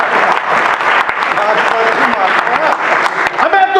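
Applause from an audience at a Hindi comedy poetry gathering held in America, a dense, steady wash of many hands clapping that fills the whole stretch, with voices mixed into it.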